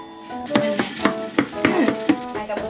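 A utensil knocks and scrapes inside a heavy frying pan during home cooking, making a close, uneven string of sharp metallic clacks with a light ringing tone, and no one talks.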